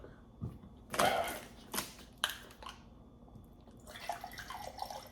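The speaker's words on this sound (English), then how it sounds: "Why am I pouring it into the glass?" Protein drink poured into a glass, with a few splashy bursts and clinks followed by a longer soft pour, close and fairly quiet with no talking.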